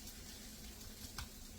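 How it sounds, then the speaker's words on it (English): Bacon and onions frying in a pan give a faint, steady sizzle with a soft crackle near the end, and no voices. "of course I have bacon and onions frying"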